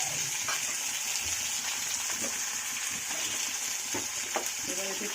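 Chopped onion, tomato and green chillies fry in a pan for a Bengali aloo dum, giving a steady, close hissing sizzle with occasional light clinks and stirring sounds.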